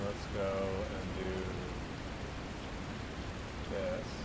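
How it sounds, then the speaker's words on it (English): Steady rain falls in a video game as a continuous even hiss, with faint tonal voice-like fragments briefly rising over it near the start and end. "the game audio is the rain and sirens"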